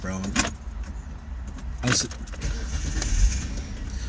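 A car engine shuts off and keys jangle in a quick metallic rattle twice close by, with a brief spoken word and a low idle hum beneath.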